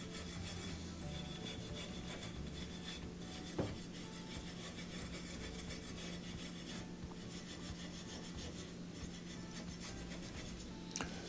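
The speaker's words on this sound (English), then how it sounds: "just using the wire brush to brush off that rust can make a big difference." A wire brush rasps steadily against a rusty Wolf gas stove igniter, a continuous close scrubbing texture with a couple of sharp ticks, quiet and without speech.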